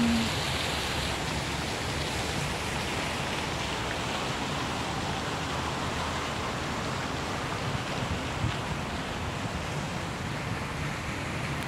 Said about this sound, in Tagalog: The fountain.